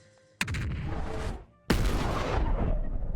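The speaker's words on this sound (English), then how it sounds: "Creates a small explosion." A small magic explosion goes off in a video game as two sharp, booming blasts, each followed by a roaring, crackling tail. The second blast is louder and rumbles on to the end.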